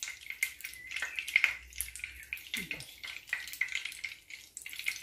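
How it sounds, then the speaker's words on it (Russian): Egg-dipped cabbage slices frying in a pan, a quiet crackling sizzle with irregular pops and spatters throughout, plus a faint brief clink partway, no talking. "И жарю с обеих сторон."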